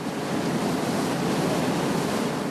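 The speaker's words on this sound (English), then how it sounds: "A geyser in the middle of Falls of Neuse." Water gushing like a geyser from a broken water main in a city street, a steady dense roaring hiss with no breaks, fairly loud and alone.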